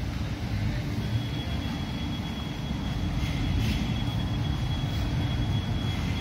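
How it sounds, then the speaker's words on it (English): A loud, steady rumble of a metro train entering a station in Chennai, with a thin high whine held above the roar. "we realize that a train is probably just entering"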